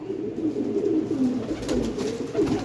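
A flock of flying pigeons kept together coos steadily, overlapping low rolling calls continuing without pause at close range.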